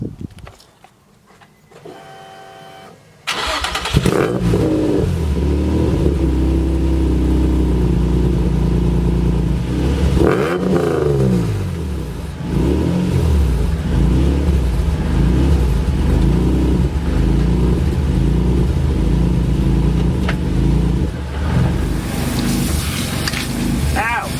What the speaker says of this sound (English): get the car started up, put it in second gear, let it idle